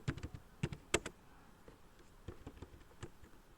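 Keystrokes on a computer keyboard come in short irregular bursts of clicks, with brief pauses between, close by and fairly quiet, with no talking.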